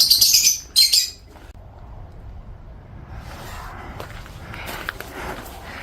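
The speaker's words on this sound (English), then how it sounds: "Here is the lovebirds in the cage, absolutely beautiful." Small caged lovebirds give a quick flurry of high, bright chirps in two short bursts at the start, then fall mostly quiet, with a few fainter tweets over soft outdoor ambience in a landscaped villa garden in Murcia, Spain.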